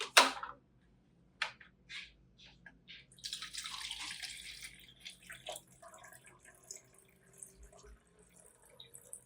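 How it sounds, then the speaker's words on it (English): A hand spray bottle misting a rice water and garlic mixture onto an orchid: a few sharp pumps and clicks, then a soft hissing spray burst with quieter spritzes and handling noises afterward, close up and fairly faint. "Spraying rice water and garlic."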